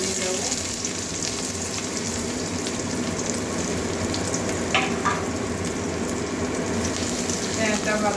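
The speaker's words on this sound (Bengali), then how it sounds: "পেঁয়াজটা ভাজা করে নেবো" Chopped onion frying in a pan with a little nigella seed, a steady close sizzle running throughout, with faint stirring clinks and a few brief spatters midway.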